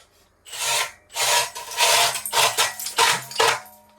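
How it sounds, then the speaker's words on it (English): Repeated rough grinding bursts, a hand-turned auger rasping through lake ice to re-drill frozen-over holes, five or six strokes with short pauses between, close by. "I'm going to re-drill these holes from last night and see how well it works with this auger"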